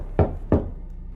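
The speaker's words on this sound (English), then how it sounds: "Rapping at my chamber door." Two firm, hollow knocks on a door in a film scene, spaced about a third of a second apart, close and loud, followed by quiet.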